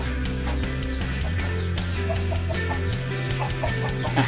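Fighting cocks and hens cluck repeatedly close by over a steady low hum, with no talking.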